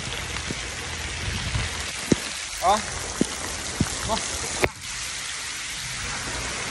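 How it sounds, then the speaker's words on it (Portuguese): Steady, heavy rain hisses throughout at a petrol station, with a few sharp knocks and a short exclamation from a voice over the downpour. "Chovendo pra caramba aqui"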